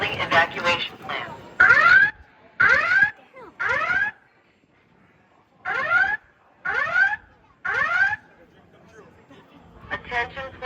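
Loud building fire alarm at the Statue of Liberty Building, sounding in repeated rising electronic whoops separated by short pauses, steady and close, filling the space indoors.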